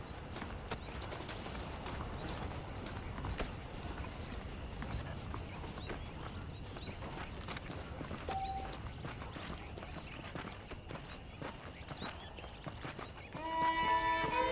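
Horse hooves clip-clop steadily in Red Dead Redemption, a continuous walking rhythm at moderate distance, with pigeons or doves cooing in the background and no talking.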